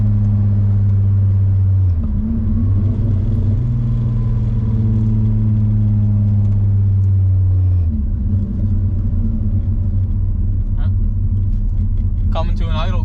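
A Mk2 Volkswagen running a swapped 12-valve VR6 with Techtonics 288 camshafts settles to a loud, lumpy, steady idle rumble, the drone dipping briefly twice, with a few faint clicks near the end.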